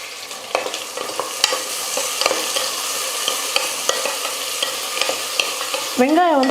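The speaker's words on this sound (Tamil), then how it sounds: "ஒரு ரெண்டு நிமிஷம் நல்லா வதங்கட்டும் வெங்காயம்" Chopped onions and two green chillies sauté and sizzle in a pan for a chapathi side dish, a steady close frying hiss broken by scraping stirs and clinks, with a louder burst of sizzle near the end.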